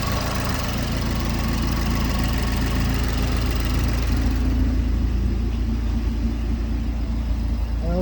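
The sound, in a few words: car engine idling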